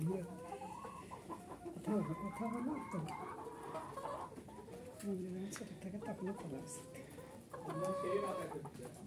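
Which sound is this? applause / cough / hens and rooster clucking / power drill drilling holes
hens and rooster clucking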